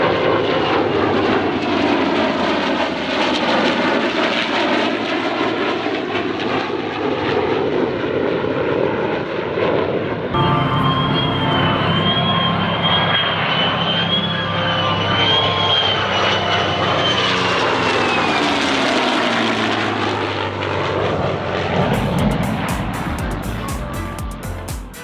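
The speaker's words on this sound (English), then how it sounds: "At the end of the performance, they flew with a P-51 Mustang from World War II." An F-35 fighter and a World War II P-51 Mustang fly past together in an airshow heritage flight. The loud aircraft engine roar swells and fades as they pass, with a changing pitch and a propeller drone.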